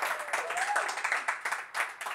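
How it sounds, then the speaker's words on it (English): Studio audience applause on a talk show, brisk clapping in short surging bursts over a couple of seconds, fairly soft and with a little voice mixed in. "you can clap for that"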